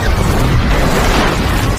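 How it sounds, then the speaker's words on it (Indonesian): An explosion in a film scene set in a village, a loud, dense, roaring boom that stays at full intensity across the whole short stretch, with no speech. "tiba-tiba saja saat itu sebuah ledakan terjadi yang membuat para penduduk langsung"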